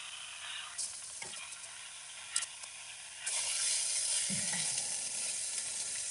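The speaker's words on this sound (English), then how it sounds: "Do you like your steak like this? There's two sizzle steaks." Sizzle steaks fry on a camping stove inside a hot tent, giving a soft crackle that swells into a loud, steady hiss partway through. A few scrapes and clicks sound close by.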